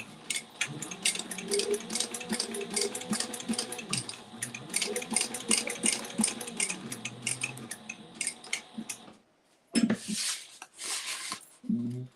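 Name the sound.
freshly oiled sewing machine running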